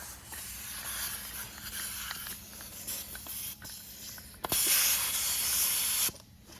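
Compressed air hisses steadily from an air hose hooked to a tire valve on a tire changing machine, rising to a louder, brighter burst for about a second and a half near the end, with no talking.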